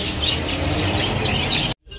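Birds in cages at a pet shop chirp and tweet in a busy, overlapping chorus, close and steady, with no talking, until it cuts off abruptly near the end.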